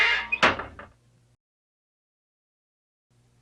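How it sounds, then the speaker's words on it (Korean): An old, shabby house door opened with a key: a close cluster of clicks and a clunk from the lock and door, then quiet with faint low hum, and another soft noise at the very end. "열쇠를 꺼내어 문을 열었습니다"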